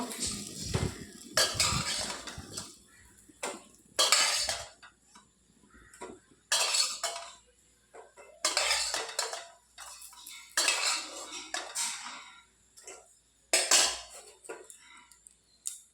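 Fried red lentil fritters being lifted one by one from a kadai, with repeated metal spatula scrapes and clinks against the pan in short bursts separated by pauses, close and clear, with no speech.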